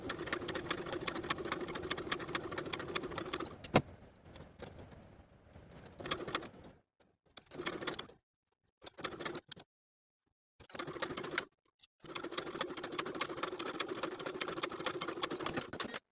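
A sewing machine runs in bursts while stitching a placket across a front V neckline of a women's top, steady mid-pitched motor hum with short pauses and stops between runs, close and fairly quiet.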